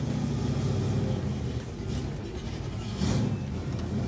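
A 1969 Chevrolet Camaro muscle car engine gives a deep, steady rumble that holds loud and close for several seconds, swelling slightly near the end, with no voices over it.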